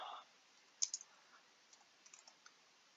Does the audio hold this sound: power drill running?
no